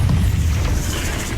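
A Confringo fire spell bursts in Hogwarts Legacy, a continuous low rumbling boom that holds steady and loud for its whole length, with no pause or talk.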